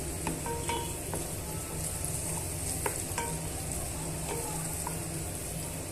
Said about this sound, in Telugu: ఇప్పుడు మనం ఇందులోనే తరిగి పెట్టుకున్న వంకాయ ముక్కలను కూడా వేసుకుందాము